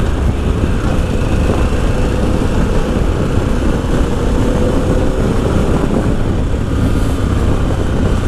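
A 2025 Harley-Davidson Pan America ST motorcycle's engine drones steadily while riding through twisty roads, a loud continuous roar mixed with heavy wind rush and no pauses.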